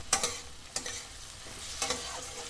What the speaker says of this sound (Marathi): एक मध्यम आकाराचा टोमॅटो परतून घेऊया